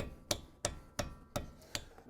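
A grease cap being pressed back onto a Bronco upper control arm ball joint by hand, heard as five sharp, evenly spaced taps close by, roughly three a second, with nothing else in the background.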